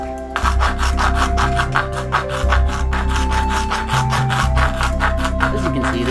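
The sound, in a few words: rasp filing down the edge of a PVC bow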